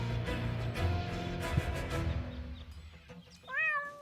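Cat meowing inside the video game Deponia, a kitty stuck up a tree, giving a few plaintive meows over quiet game ambience and music, ending in a clearer rising meow.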